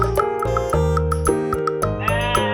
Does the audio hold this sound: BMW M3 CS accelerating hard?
no